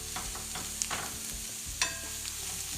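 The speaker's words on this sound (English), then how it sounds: "What I have are just white button mushrooms here that I've chopped. Adding those right in." Chopped white button mushrooms tumble into a hot pan and fry, giving a soft continuous sizzle broken by a few sharper stirring clinks and scrapes, close by with no voices.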